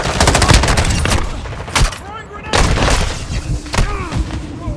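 Gunfire in the Call of Duty: DMZ game on the Vondel map: rapid bursts of shots and heavy booms come loud and close in repeated volleys, with brief gaps between them.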